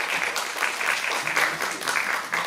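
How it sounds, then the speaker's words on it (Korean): Audience applause at a TV drama production press event in Korea, a dense, even patter of many hands clapping throughout, fairly loud and continuous with no talk over it. "뜨거운 박수 부탁드립니다."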